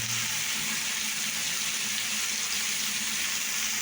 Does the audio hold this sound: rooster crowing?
no